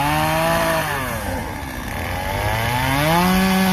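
A chainsaw runs loudly nearby at a timber show, its engine pitch dipping as it bites into wood, then climbing again as it revs.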